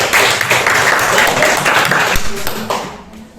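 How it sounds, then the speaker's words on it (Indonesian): Schoolchildren clap their hands in a loud, busy patter close by, with voices heard over the clapping as it fades toward the end. "kita tepuk tangan dulu"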